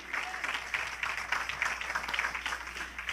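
Steady applause from a church congregation during a worship service, a continuous, moderately distant patter of many hands clapping for about three seconds with no break.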